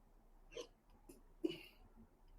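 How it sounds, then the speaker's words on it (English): Two short, low throaty bursts, the second a little louder, come from someone nearby in an otherwise quiet setting. "Sorry, I burped."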